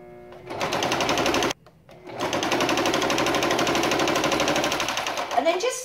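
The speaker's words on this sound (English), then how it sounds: "And then just sew until you're within a couple of inches of the bottom." A sewing machine runs fast and loud along a curtain fabric edge, stops for a brief pause, then starts again with a steady hum and rattle that fades at the end.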